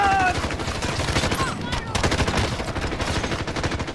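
Pistol gunfire in a first-person shooter match, a rapid string of sharp shots with rattling gunfire, close and loud beneath a voice speaking.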